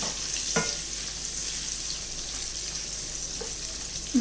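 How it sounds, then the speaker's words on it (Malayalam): Paneer sautéing in oil in a pan, a steady soft sizzle with a couple of gentle stirring knocks and scrapes, no talking. "കുറച്ച് നേരം നമുക്ക് ഈ എണ്ണയിലിട്ടിട്ട് ഒന്ന് വഴറ്റിയെടുക്കാം"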